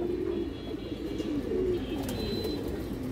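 Black-necked pigeons give continuous low, warbling coos that rise and fall close by, with faint higher chirps in the background.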